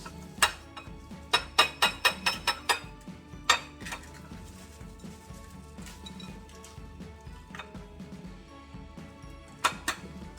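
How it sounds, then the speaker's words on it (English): Eggs are cracked against a bowl while making fried squid, giving a rapid cluster of sharp, close taps and clinks. Quieter shuffling follows, then a couple more taps at the end. "ឡូវហ្នឹងយើងចាប់ផ្ដើមបំបែកពងចូលចានសិន"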